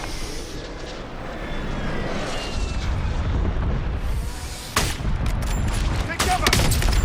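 Precision airstrike explosions in Call of Duty Warzone, a dense rolling barrage of booms and rumbling blasts that builds and stays loud, with crisp impact cracks near the end and radio-style voice callouts mixed in.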